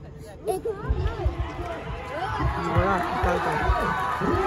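Crowd at a night cricket final in a village, a busy hubbub of many voices with shouts and chatter building steadily, close and lively, with nearer individual voices over the babble.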